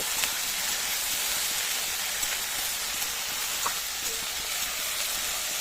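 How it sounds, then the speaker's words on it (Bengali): Chopped okra fries in a pan with onions for Marwari-style masala bhindi, giving a steady close sizzle and hiss with faint scraping as the pieces are mixed. "ভেন্ডিগুলোকে দিয়ে এবার খুব ভালো করে পেঁয়াজের সঙ্গে ভেন্ডি মিশিয়ে নেব"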